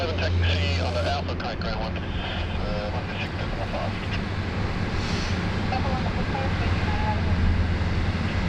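A Fiji Airways airliner on the runway at Sydney Airport, a broad steady jet roar with wind rumble, heard through continuous talk.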